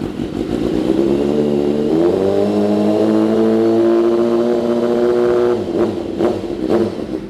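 A BMW S1000R sport motorcycle engine runs loud and close, its pitch climbing into a sustained high rev, then dropping with a few sharp throttle blips near the end.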